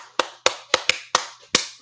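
A single person claps hands six times at an uneven pace, sharp close slaps with short gaps, alone with no talking.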